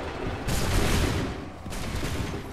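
Soldiers fire a musket volley in Assassin's Creed III at Lexington and Concord, a loud ragged burst of many shots rolling together, followed by a second smaller crackling wave, with no speech.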